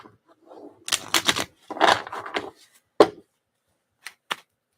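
A tarot deck being shuffled by hand: a few short, crisp riffling bursts close by, followed by sharp isolated taps and slaps of cards with brief quiet gaps between them.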